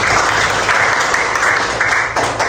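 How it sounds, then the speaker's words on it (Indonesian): Audience applause during a classroom presentation, a dense, steady clapping that stays loud and even from start to finish with no voices over it. "Iya, kasih tepuk tangan ya."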